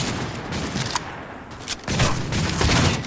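Rapid bursts of gunfire in a Cyberpunk 2077 firefight, dense crackling shots and booming reports packed tightly together, loud and sustained throughout.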